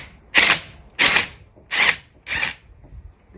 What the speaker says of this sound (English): use your impact wrench to remove the plug